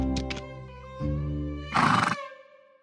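A horse neighs as a cartoon sound effect: brief sharp cries, then a loud breathy whinny that fades out, heard on its own with no talking.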